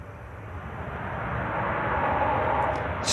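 An SAS Airbus A320neo airliner touches down at Manchester Airport, a broad steady engine roar that swells and holds loud, close and alone.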